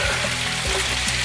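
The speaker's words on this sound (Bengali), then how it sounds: "আলুতে একটুখানি নুন দিতে হবে, তাহলে ভাজাটা ভালো হয়।" Salted potatoes and onion sizzle steadily in a frying pan for aloo dum, a continuous close, fairly loud crackle with no voices.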